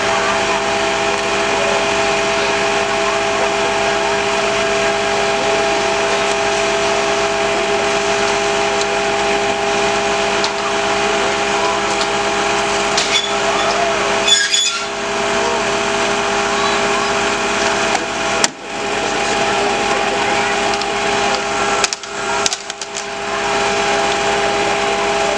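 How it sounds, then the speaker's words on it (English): A hydraulic rescue cutting tool rated to about 140 tonnes of cutting force runs during a fire brigade open-day drill, a loud, continuous mechanical whine and hum broken by a few brief sharp dropouts and clunks. "The cutting tool that's being used currently can cut up to 140 tonne of cutting"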